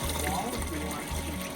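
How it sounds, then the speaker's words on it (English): Water gushes steadily from a hose into a CoopWorx chicken water silo, a continuous close rushing pour running for the whole moment with a low rumble underneath. "let's put some water in there."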